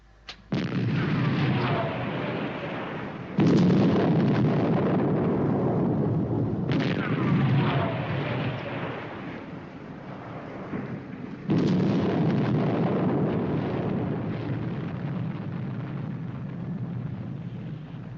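Atomic charges firing and detonating as a TV show effect, in a sequence of heavy booming blasts with long rumbling tails, each new explosion cutting in sharply at a few-second interval, loud and close with no talk.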